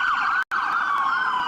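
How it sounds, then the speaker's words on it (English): A wailing emergency siren sweeps up and down steadily, loud and close, with a brief dropout near the start. "Sirens blared as cars rushed to."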